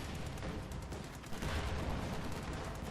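A Maxim machine gun fires in a WWII strategy game, its rapid rattling bursts rolling on steadily at moderate distance amid a dense layer of battle noise, with no voices.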